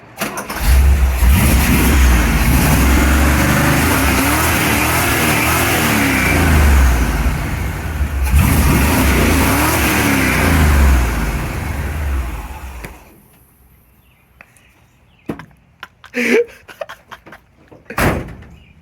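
A 1975 Chevrolet C10 truck engine cranks, catches and revs loudly up close for about twelve seconds, then shuts off. A few sharp clunks, like a door, follow in the quiet.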